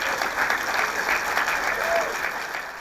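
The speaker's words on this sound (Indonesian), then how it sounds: "Tepuk tangan dulu dong," A studio audience at an Indonesian TV talk show applauds, a continuous wash of clapping from many hands at a fairly even level throughout, heard alone without talking.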